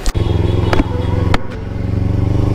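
Kawasaki Ninja motorcycle ridden on the road: a loud, steady engine drone with a close, even hum and a few brief clattering ticks along the way.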